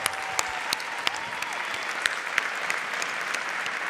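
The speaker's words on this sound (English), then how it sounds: "let's give her a round of applause" Applause from an audience at an education service honors ceremony, a steady wash of clapping with a few sharper claps standing out, moderately distant and continuous throughout.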